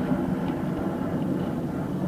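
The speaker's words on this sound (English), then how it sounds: "Can you hear these helicopters?" Steady low rumbling engine drone of aircraft passing overhead, continuous and fairly loud with no break, consistent with helicopters flying above.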